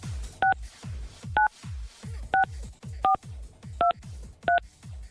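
Six telephone keypad tones sound one after another at a steady pace, each a short clear beep, with soft low thumps between them.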